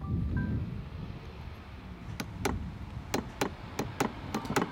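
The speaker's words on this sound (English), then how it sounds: "we've had to knock it out with a hammer." Hammer blows knocking the shaft out of a sailboat's furling mast during an electric drive upgrade: a series of sharp metallic knocks, two then a quicker cluster of six or so, close and distinct over a low background rumble.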